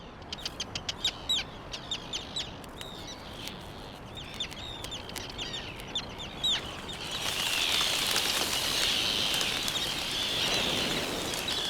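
Seabirds in a ground-nesting colony on a volcanic hotspot, calling in a rapid series of sharp, clucking notes near the start, then giving way to a denser, steadier wash of far colony chatter and wind.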